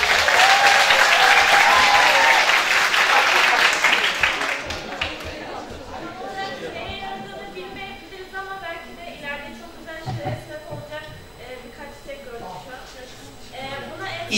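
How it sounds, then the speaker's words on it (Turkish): A seminar audience in a municipal hall bursts into loud, dense applause that tapers off after a few seconds. Scattered claps and crowd chatter follow while people talk. "Alkış."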